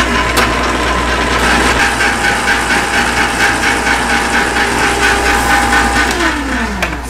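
An ice cream maker churns strawberry sorbet with Grand Marnier, giving a loud, constant mechanical grinding and ratcheting drone that runs unbroken, close up and alone.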